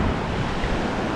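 Ocean surf washing onto a spring-break beach, a steady broadband roar of breaking waves mixed with wind buffeting the microphone, loud and continuous throughout with no voices.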